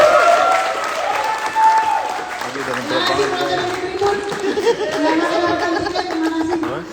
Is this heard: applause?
yes